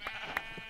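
A short, faint sheep bleat from the Minecraft video game, a single quick wavering call.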